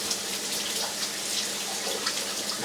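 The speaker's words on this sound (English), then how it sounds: "Rinse my hands." Hands rinsed under a running kitchen tap, a steady hiss of flowing water with soft splashing, close and continuous, with no talk.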